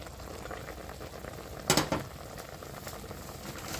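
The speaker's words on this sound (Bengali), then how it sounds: "ঢাকনাটা সরিয়ে এখন দেখে নেওয়া হবে আমটা প্রায় সেদ্ধ হয়ে গেছে দেখুন" Raw mango simmering in a pot for chutney, a steady low bubbling hiss with one brief clatter of a lid or utensil in the middle, close and quiet with no talking.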